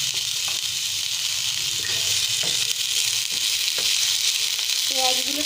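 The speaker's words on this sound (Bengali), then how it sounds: "তেলটা গরম হয়ে গেছে, পেঁয়াজ কুচিটা এর মধ্যে আমরা অ্যাড করে দিচ্ছি" Chopped onion fries in hot mustard oil, a loud, constant close-up sizzle with occasional scrapes and clinks of a spoon against the pan, no one talking.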